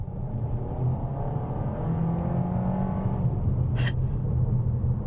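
A 2025 Skoda Superb SE L Estate accelerates hard at full throttle from around 50, its engine a close, steady rumbling drone with rising tone, plus a brief click partway through and no talk.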